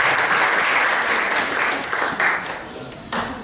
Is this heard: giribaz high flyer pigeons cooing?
no